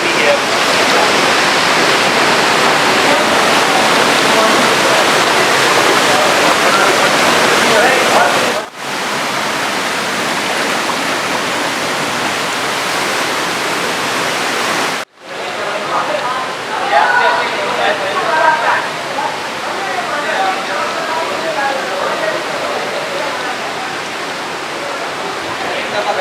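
Rushing water at Noori Waterfall in Haripur, Khyber Pakhtunkhwa, a steady loud broadband roar running throughout with two brief dropouts, with people talking over it at points.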